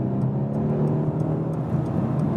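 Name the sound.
Mercedes C-Class V8 engine accelerating to overtake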